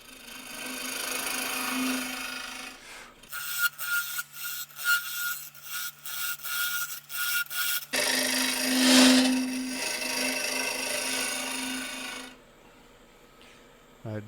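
Wood lathe tool hollowing a cylindrical cavity in a crotch-wood hollow form, a steady close scraping rasp broken by a stretch of rapid rhythmic chattering cuts, then a louder continuous shaving hiss.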